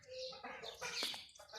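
Several roosters running around a yard cluck and squawk in short, overlapping bursts, fairly faint and close, with some background voice and noise.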